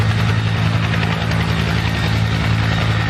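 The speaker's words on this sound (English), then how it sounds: "here you can see the helicopters" Military Blackhawk helicopters flying over Washington, D.C., a loud, continuous rotor drone with a steady low throb, close and unbroken with no talk.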